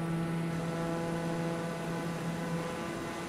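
Steady droning hum of an aircraft engine in Microsoft Flight Simulator 2020, gently throttling up with a constant tonal whine and even, unbroken level.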